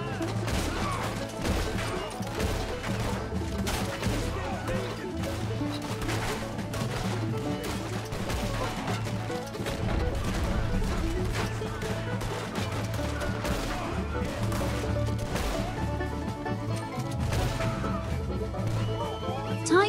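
Gunfire in Red Dead Redemption 2 during a train robbery getaway, rapid repeated sharp shots and crashes crackling throughout over a steady low background, with a voice talking at times.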